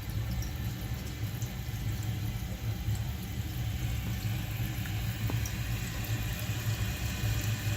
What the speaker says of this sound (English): And as it fills up, the fill valve float is going to raise, and then this water is going to stop.